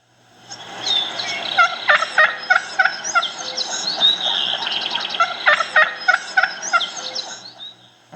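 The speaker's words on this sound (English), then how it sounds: "Now, let's listen to a real hen." A real turkey hen calls close by in soft, raspy yelps and clucks, strung together in uneven bursts, with faint chirps in the background.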